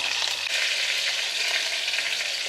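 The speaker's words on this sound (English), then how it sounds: "while our pork is browning, and you can hear it in the background there" Pork browns in a hot pan, a steady, continuous close crackling hiss with no voices.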